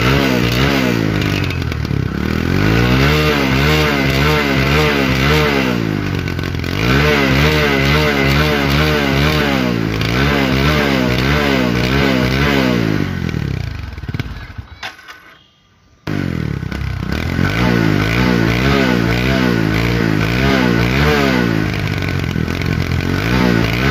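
A second-hand Bajaj V15 motorcycle with 6,800 km on it idles and revs loudly up close in repeated rising and falling surges, briefly cutting out near the middle before restarting and running on.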